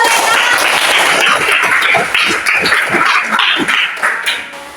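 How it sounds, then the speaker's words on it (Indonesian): A classroom of students clapping together after a maths lesson on greatest common factors, loud and close, with an uneven rhythm that thins and fades toward the end. "Oke, tepuk tangan dulu mereka."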